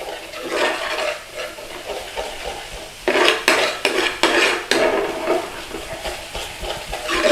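Tomato puree stirred into a Madras-style chicken tikka curry in a pan, a steady scrape and clatter of the spoon against metal, growing louder and more percussive midway with several sharp knocks, close and alone without talk.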